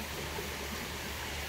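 River water rushes into diversion channels that fill pools at an eco park in Caluco, a steady broadband wash of flowing water, even and unbroken, with no voices over it.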